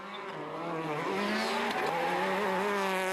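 A Skoda Fabia World Rally car accelerating hard, its engine note climbing through rising revs with a brief gear change, loud and close with no voices.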